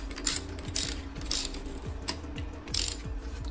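Ratchet tightening bolts onto suspension lift blocks during a leveling kit install, a series of quick metallic clicking strokes in repeated bursts, close and clear with no talk.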